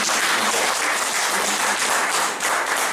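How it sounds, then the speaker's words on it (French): A church congregation breaks into sustained, dense applause that fills the room steadily from start to finish, with no voices standing out above the clapping. "Est-ce qu'on peut acclamer pour sa vie?"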